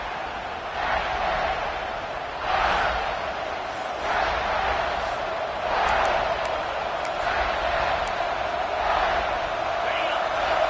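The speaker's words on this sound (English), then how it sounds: "This crowd, full throat, spreading the eardrums and letting them know it's going to be a long day." A football stadium crowd at an Eagles game roars steadily through the whole stretch, a dense, loud wash of massed voices with brief swells and sharp whistles rising above it.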